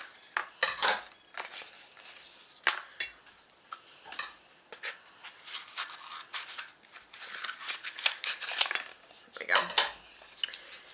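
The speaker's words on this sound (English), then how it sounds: "I'm going to take my toilet paper rolls. I'm going to cut them" Scissors snip through cardboard toilet paper rolls, cutting them in half, with irregular crisp clipping and rustling bursts up close, no talking.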